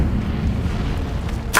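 Hogwarts Legacy's Incendio fire spell lands as a deep, booming blast that rumbles steadily, then ends with a sharp bright burst.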